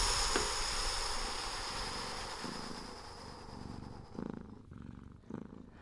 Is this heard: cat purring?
yes